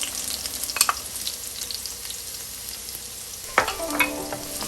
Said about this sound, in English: a tablespoon of olive oil that we use so we can saute our spices